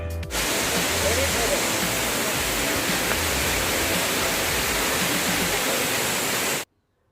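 A Coorg, Karnataka waterfall's constant, heavy rush of water fills the scene at close range, unbroken until it cuts off abruptly near the end.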